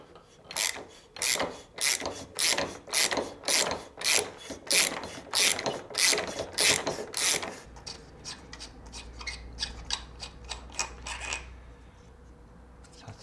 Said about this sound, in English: So that's the adjuster nut off.